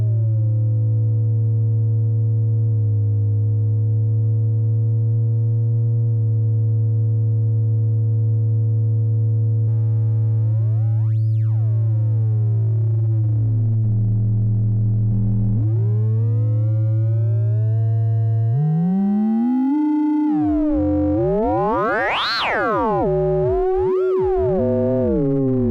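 Sputnik Modular Dual Oscillator holds a steady buzzy synth drone, then bends and warps into sweeping, chirping pitch glides and shifting metallic tones as audio-rate modulation kicks in, loud and alone throughout.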